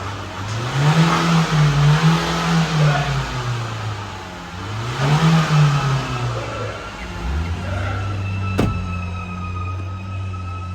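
A Euro 6 Dacia Duster 4x4 engine with a clogged water-cooled intercooler and a bursting hose revs up in two long swells, falls back, then rises again and holds steady, loud and close, with a sharp click near the end.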